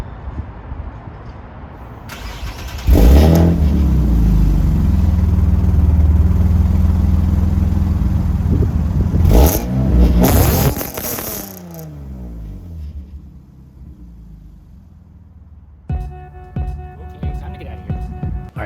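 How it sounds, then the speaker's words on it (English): Exhaust of a newly built car revs in a parking area, a loud, deep engine roar rising and falling across several blips, then settling to a quieter idle before a later brief sound. "I'm gonna record some exhaust clips really quick."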